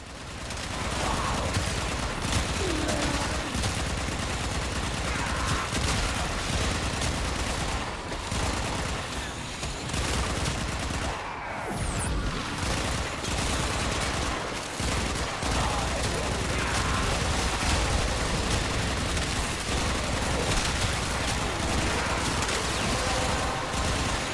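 Sustained automatic weapon fire in the video game Warframe, loud and continuous rapid bursts filling the whole stretch with dense, overlapping shots and no pauses.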